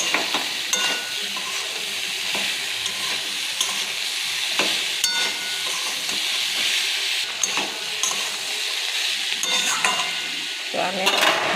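A pumpkin curry with salt and turmeric gets stirred in a pan, giving a soft continuous sizzle and hiss with intermittent scraping strokes of the spoon and no voices.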